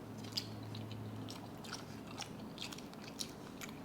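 Close, quiet bites and chewing of food with soft crunches and moist mouth sounds in an irregular rhythm; no talking.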